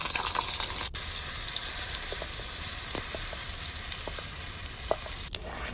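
Jackfruit pulp sizzles and fries steadily in ghee in a heavy iron pan, with a continuous hiss and a few faint scraping stirs.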